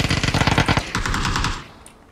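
Rapid, loud bursts of automatic gunfire in a multiplayer shooter game, a dense rattling volley followed by a second steadier stream that fades out at the end.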